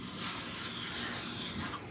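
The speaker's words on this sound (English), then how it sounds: "we'll do a little planing with it and see" A small Veritas miniature hand plane drawn across wood in one steady, soft rasping stroke lasting about two seconds, close and fairly quiet with no talking.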